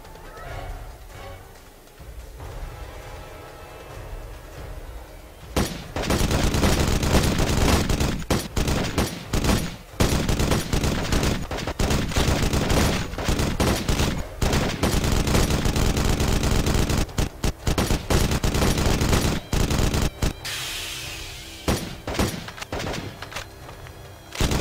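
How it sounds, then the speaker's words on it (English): Sustained automatic machine gun fire in the war game Modern Combat Sandstorm, loud and close, rattling almost continuously with brief gaps after a quieter start. "Chief, man that machine gun."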